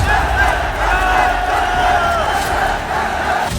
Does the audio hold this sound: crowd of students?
yes